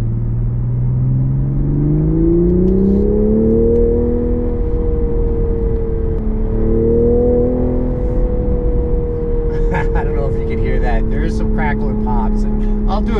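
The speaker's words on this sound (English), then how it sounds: "crackles when you rev the engine. It sounds super aggressive." A 2023 Toyota GR Supra 3.0 engine revs up with rising pitch, holds a steady drone, then sharp crackles and pops break out from the exhaust near the end.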